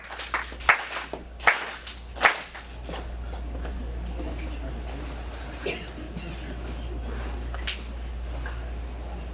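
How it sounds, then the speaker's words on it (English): Solemn ritual hand claps of shihakushu at a ceremony: three sharp, evenly spaced claps ring out close by, followed by a quiet room with low murmuring and a few faint later taps. "Four solemn audible claps, shihakushu."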